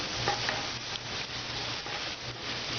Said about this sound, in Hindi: अब इसमें कटी हुई मिर्च, अदरक और लहसुन डाल के चलाएं। इसको भी हल्का सा फ्राई होने दें।